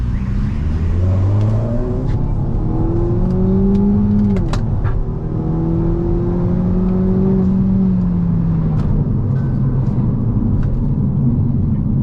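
A 2018 Hyundai Elantra Sport 1.6T turbo engine revs up through rising gears, whirring and rumbling steadily as it accelerates hard, heard from inside the car.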